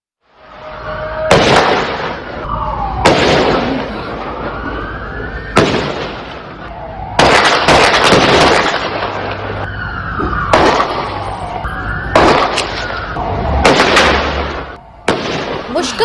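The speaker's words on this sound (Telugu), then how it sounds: "నల్లటి ముసుగు ధరించిన ఇద్దరు ఫుట్ఓవర్ బ్రిడ్జ్ పై నుంచి కాల్పులు జరిపినట్టుగా స్థానికులు తెలిపారు" Repeated loud gunshots ring out at intervals during a mass shooting at a Hanukkah event on Bondi Beach, fired from a footbridge, with sirens and crowd noise running underneath throughout.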